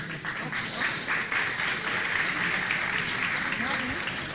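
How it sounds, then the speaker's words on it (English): Church audience applauding a Sunday school children's choir at a Christmas play, a dense steady round of clapping from a hall full of people, with faint voices beneath. "let's give them a round of applause as they're preparing"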